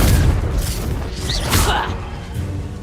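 A Confringo spell explodes in the Hogwarts Legacy video game, with a dense, booming blast and crackling bursts that fill the clip along with layered game effects.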